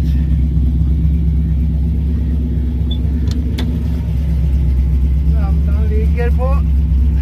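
A car engine idles in a steady, even, close rumble throughout while its carburetor is being adjusted, and a person speaks briefly over it.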